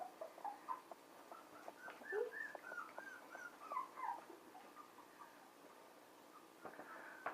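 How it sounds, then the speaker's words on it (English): Newborn puppies whimper and squeak faintly with a mother dog nearby, thin high cries and small mewls scattered irregularly over quiet background shuffling. "Just wanted to show you how attentive Winty is towards the puppies"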